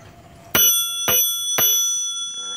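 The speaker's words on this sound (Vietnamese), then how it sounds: "chuông này hình như là chuông mới các bạn, không phải chuông cũ của nó" Bell on an old Japanese Bridgestone bicycle rung three times in quick succession, each bright metallic ding ringing on close and loud, the last one decaying slowly.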